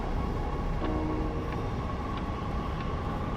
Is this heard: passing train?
yes